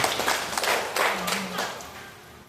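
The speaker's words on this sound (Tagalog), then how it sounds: "Palakpak ang Ginoo." A church congregation clapping their hands together, a brief burst of scattered, moderately loud claps with voices mixed in.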